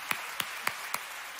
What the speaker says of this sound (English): Can you clap your hands and give God a praise?